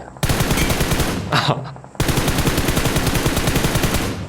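Automatic gunfire in PUBG Mobile, rapid sustained bursts with a brief break in the middle before the firing resumes, loud and close.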